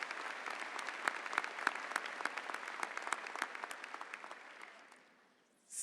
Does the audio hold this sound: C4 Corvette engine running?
no